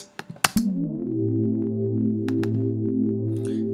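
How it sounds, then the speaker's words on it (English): A sustained synthesizer pad from a hook section in an Ableton session swells in after a few clicks, holding a steady, smooth chord with gently shifting tones, played alone. "So this pad sounds like this."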